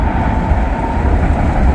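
A heavy freight train pulled by double DPU locomotives working hard rolls past close by, a steady loud broadband rumble with low wheel-and-engine roar and a faint high whine, continuous with no voices.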